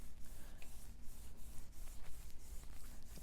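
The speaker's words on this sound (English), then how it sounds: "I'll take a piece of paper, try and line it up on the gel plate, and then I just burnish it with my finger" Paper being burnished by finger onto a gel printing plate gives a soft, continuous rubbing and scuffing, close and faint, with repeated light strokes and no talk.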